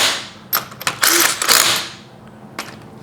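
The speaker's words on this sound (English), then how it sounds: "Quick and easy way to spin these on with a drill or an impact." An impact wrench or drill spins lug nuts onto a Nissan Xterra or Frontier wheel during a brake job, giving short mechanical whirring and ratcheting bursts, close and fairly loud, with a brief final tap.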